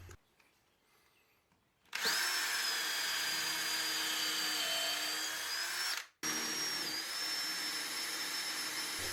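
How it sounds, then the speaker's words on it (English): A power drill whines steadily at high speed, boring holes into a wooden bench top for several seconds, stopping briefly, then spinning up again loud and close. "I can then drill the holes through into the bench top."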